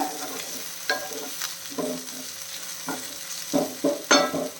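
Tender okra bhujiya cooks in a pan as a spoon stirs it in scattered, uneven scrapes and knocks over a faint sizzle, with the strokes growing louder toward the end and no talking.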